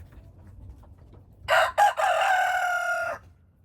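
An aggressive young rooster on a homestead lets out a single clear crow, close and fairly loud, against a quiet background. The crow breaks briefly before the long drawn-out final note.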